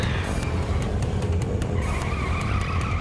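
A hearse skidding in the PS1 video game Nightmare Creatures 2, a loud, sustained screech of tires over a rumbling engine and game music for a few seconds.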